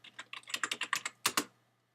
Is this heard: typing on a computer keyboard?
yes